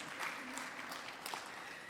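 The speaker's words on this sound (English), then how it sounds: "You guys are failing at clapping." Thin, scattered applause from a small audience at an awards ceremony, faint and sparse, with a few distant claps and no voices over it.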